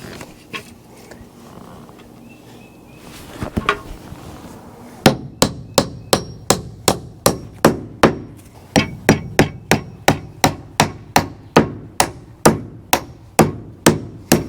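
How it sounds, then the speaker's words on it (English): Nails from a strip being hammered into wood while framing a post frame pole barn shed: after some quiet handling noise, a loud, steady run of about twenty evenly spaced close hammer blows. "I'm just going to use a strip of nails and drive them in."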